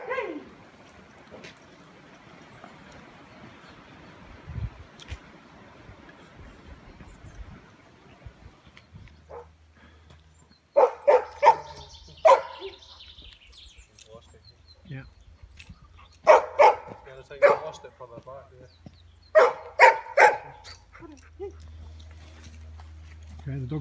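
A scent discriminating search dog working an area, giving bursts of sharp barks and whimpers in clustered groups in the second half, with an earlier stretch of quieter rustling and a handler's talk in between.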